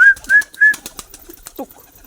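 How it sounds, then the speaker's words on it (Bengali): Three short cooing calls from a yellow satin fancy pigeon in quick succession, fairly close, followed by soft shuffling and rustling. "আমার এই পায়রাটা সত্যি বলতে খুবই মানে"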